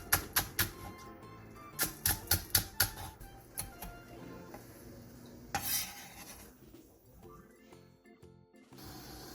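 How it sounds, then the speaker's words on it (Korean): A knife chops halved cheongyang chili peppers, red chili and green onion on a cutting board, giving a run of sharp, close taps in quick bursts followed by scattered softer knocks and a pause. "청양고추 2개와 홍고추 1개를 길게 반으로 가른 뒤 쫑쫑 썰어주세요."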